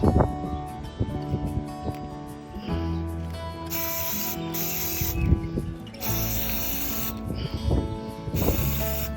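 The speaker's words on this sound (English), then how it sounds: "I'm going to use this cream colored spray paint to spray over the letters" A can of cream-colored spray paint sprays in repeated hissing bursts over a sign's letters with short gaps between them, close by over outdoor rustle on a windy day.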